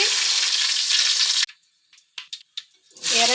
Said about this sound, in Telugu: పచ్చిమిర్చి ఇవన్నీ బాగా ఫ్రై అయ్యే వరకు ఉంచాలి ఫ్రెండ్స్